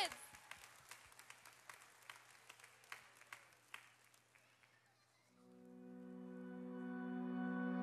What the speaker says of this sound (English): Can we just give them one more cheer as they head out to all of our kids?